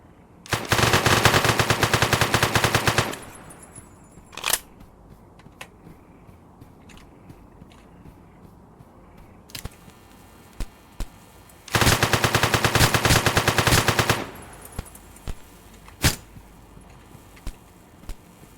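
Gunfire in the video game One Armed Robber comes in two long rapid automatic bursts, each lasting a few seconds, with scattered single shots and clicks between them, loud and close with no talking.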